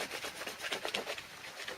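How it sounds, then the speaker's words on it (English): Birch bark is scraped with a blade into small shavings, a close, faint, quick series of dry rasping strokes repeated in a steady rhythm. "Just scrape it across like this, and you will start to see small shavings."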